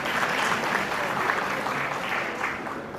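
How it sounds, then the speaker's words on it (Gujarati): An audience at a stock exchange listing ceremony for Ideal Technoplast Industries applauds shareholders, with dense, steady clapping from a crowd that holds at an even level throughout. "એ તમામ શેર હોલ્ડરને આપણે બાકીના જોરદાર તાળીથી વધારીએ"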